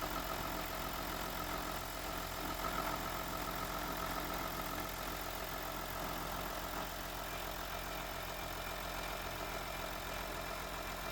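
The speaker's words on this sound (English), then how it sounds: "I love the sound of a diesel engine" A diesel car engine idles steadily while it warms up to operating temperature, a continuous even rumble with a faint knocking texture heard close and alone.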